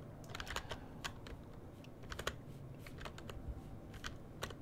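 Rapid, irregular typing on a computer keyboard, with clusters of crisp key clicks and short pauses, close up and alone over a faint background hum.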